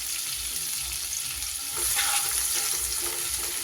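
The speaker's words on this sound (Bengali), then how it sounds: "এইবার পেঁয়াজটা একটু লাল লাল করে ভেজে নিতে হবে।" Chopped onion sizzles steadily in hot oil with spices, a continuous frying hiss that swells a little louder partway through, with faint stirring scrapes underneath and no voices.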